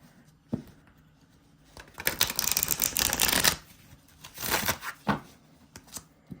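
Tarot cards about the size of playing cards are shuffled by hand in close, crisp bursts of riffling and flicking, loudest in the middle, with no talking.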